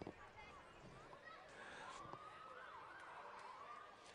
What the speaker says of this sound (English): You can hear the sirens coming now.